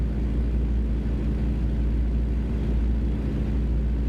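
A truck in a truck-driving video game cruising Oklahoma, hauling a load of junk, with a steady low engine rumble and road drone that continues unbroken and fairly loud throughout.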